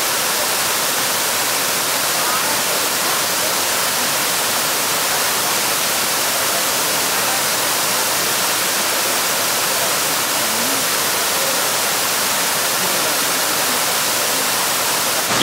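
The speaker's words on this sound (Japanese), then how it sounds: "滝の音色っていうのは F 分の1揺らぎっていうリズムに該当するそうでして" Shiraito Falls in Karuizawa roars as a steady, dense wash of falling water, loud and unbroken from start to finish, with no voices over it.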